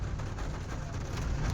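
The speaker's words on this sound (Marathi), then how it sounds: "हे पहा पाऊस चालू झालेला आहे" Steady rain drums on a car driving near Kalamboli Circle between Panvel and Vashi, a constant dense patter mixed with low road and engine rumble throughout, with no voices.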